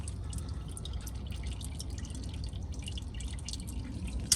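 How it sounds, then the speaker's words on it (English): Engine oil drips steadily into a 7-quart drain pan beneath a 2017 Ford Police Interceptor Utility during an oil change, a quick run of small close liquid drips and patters over faint background hiss. "Make sure it's big enough to catch that little drip that falls."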